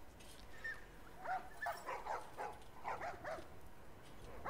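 Dogs in The Last of Us Part 2 let out several sharp barks and yips in the middle of the stretch, at moderate distance over a steady background hiss.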